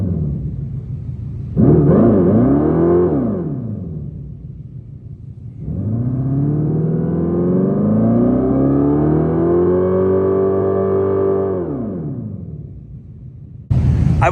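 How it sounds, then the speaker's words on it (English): A 2024 Dodge Charger electric car's smooth synthetic whirring tone rises and falls in pitch, swelling up twice like a sci-fi spaceship hum rather than a combustion engine, steady and fairly loud. "It does not sound like a real engine. It sounds more like what you'd think a spaceship sounds like."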